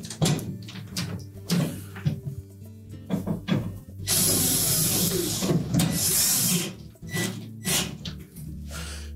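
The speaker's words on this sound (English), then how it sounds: "We'll secure it with those two screws." Screws are driven to secure an LG refrigerator evaporator motor, with close clicks and handling knocks, then a sustained whirring drive for a few seconds, followed by more tapping and shuffling.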